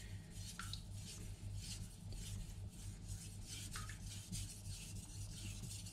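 Steel blade sharpened on a soft Naniwa Aotoshi green whetstone, a close, quiet rhythmic rasp of repeated push and pull strokes scraping across the stone without a break.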